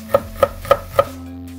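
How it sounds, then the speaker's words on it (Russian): Garlic chopped with a knife on a cutting board while cooking a buckwheat dish with eggplant and vegetables; four evenly spaced, crisp chops sound close up with no talking, over a low steady hum. "Режем чесночок."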